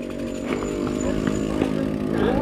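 Motorcycle engine droning near on a wet road, a buzzing two-stroke-like whine with rising and falling revs, steady and fairly loud throughout.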